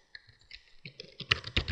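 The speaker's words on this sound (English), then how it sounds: "If you wish to add text, then you just start typing your text" Keys clatter on a computer keyboard as text is typed into a PowerPoint slide, a run of quick close clicks that grows busier and louder toward the end.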